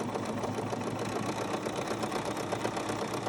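A Bernina sewing machine stitching a very thick zigzag through heavy fabric with lots of thread, its motor humming steadily with a rapid, continuous needle rattle, close and unbroken.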